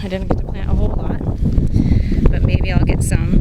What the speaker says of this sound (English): Excuse the wind, it's pretty windy today.